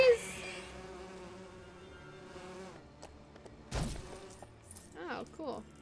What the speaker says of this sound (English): Get him, bees!